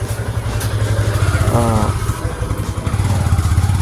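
Motorbikes ride along a road near the market at Ruma bazar in Bandarban, with a steady close engine drone running throughout, while a voice talks over it.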